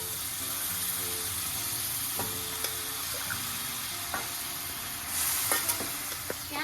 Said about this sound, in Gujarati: આપણે જે વટાણા બોઇલ કર્યા છે તે એડ કરીશું.